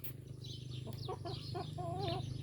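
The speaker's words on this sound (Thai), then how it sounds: "นี่คือไก่พันไข่ด้วยพี่น้องเด้อ" Young laying hens about four months old, kept on a home farm, clucking near at hand over a steady low background hum, with soft rising calls that trail into a short warbling note.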